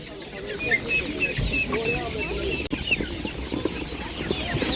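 Many chickens cluck and squawk in a busy, crowded din at the Kryvyi Ozero bazaar poultry market in Ukraine, with scattered bird calls and background chatter filling the scene.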